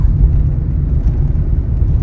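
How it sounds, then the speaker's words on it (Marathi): Car engine on a winding, tree-lined mountain road running about 40 km from Lama Chauraha to Kainchi Dham, a steady low rumble that continues evenly throughout with no talk. "गाडी चालू"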